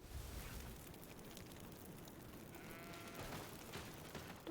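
Sheep bleat faintly in GreedFall, a fantasy role-playing game, under a steady, noisy game ambience. A short wavering bleat or two rises near the end, without any talking.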